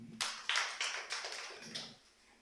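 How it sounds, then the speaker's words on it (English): A few scattered claps from a small audience at a university innovation club launch, sparse and faint, tapering off within about two seconds. "clap for them"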